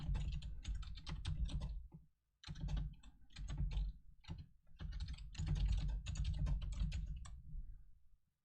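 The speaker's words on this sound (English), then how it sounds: "Typing is hard." Rapid typing on a computer keyboard during a live chat stream, a steady close clatter of keystrokes in bursts with a short pause near the two-second mark.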